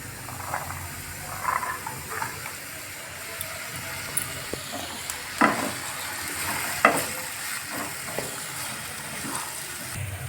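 Peas stirred into a semolina and yogurt dish in a pan: soft scraping and stirring with a faint sizzle, a few louder clatters of the spoon, close by and fairly quiet throughout.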